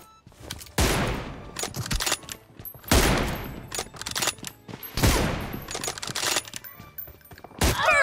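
Rapid bursts of automatic gunfire in a video game team deathmatch, loud and sustained, with dense volleys recurring every couple of seconds and sharp impact cracks between them.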